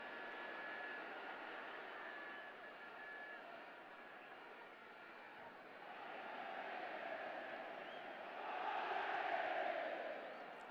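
A football stadium crowd at a Concacaf Under-20 Championship 2022 match between Panama and Honduras chants as a faint, distant, continuous roar that swells noticeably toward the end.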